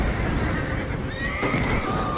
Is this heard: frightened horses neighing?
yes